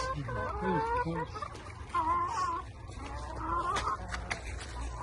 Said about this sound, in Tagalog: Feed the chooks.